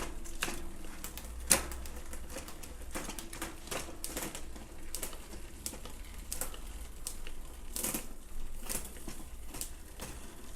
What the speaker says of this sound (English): Now I can get a nice click at the lever and it looks fine.